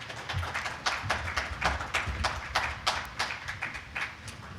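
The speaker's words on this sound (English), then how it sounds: "Let's give him a round of applause and get started." Audience applause for a cybersecurity conference speaker at BSidesLV 2025, a steady wash of many hands clapping in a hall, moderately loud and continuous with uneven peaks.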